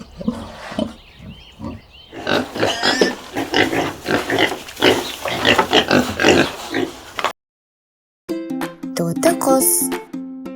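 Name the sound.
pig grunting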